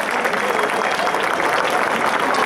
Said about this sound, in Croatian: Sad jednim velikim pljeskom sve naše hrabre na ovoj pozornici